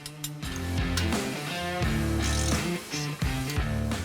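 A small Allen bolt is finger-started and threaded into a high-performance power steering cooler for a Jeep JK 3.6L, giving close, rhythmic clicking and ratcheting with metallic ticks and no talking.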